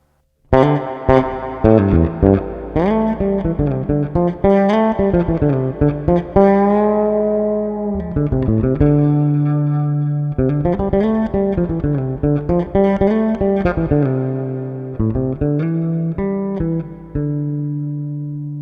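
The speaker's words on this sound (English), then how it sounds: "Let's choose spring reverb." Bass guitar notes play a slow melodic line through a NUX Atlantic spring reverb effect, each tone carrying a springy, splashy reverb tail that lingers between notes. No one speaks.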